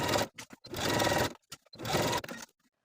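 A home sewing machine stitching a 1/8 inch seam around a dress strap runs in two steady bursts of about a second each, separated by short pauses, with brief clicks between runs and no voices.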